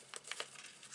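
A paper gift bag corner being folded over and creased, a quiet close crinkling with a few soft crackles, alone with no talk.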